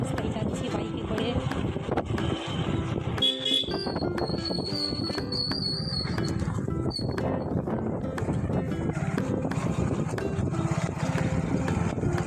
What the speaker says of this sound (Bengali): দেখো আমরা রাস্তায় যাচ্ছি বাইকে করে।